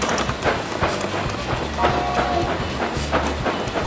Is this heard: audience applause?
no